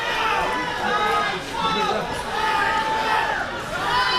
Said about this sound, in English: You can hear WWN faithful cheering for Sideshow here.